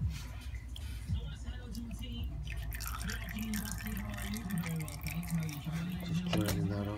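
Engine oil drains from a Yamaha R motorcycle in a steady trickle and drip, close and fairly quiet, with a low voice murmuring in the background.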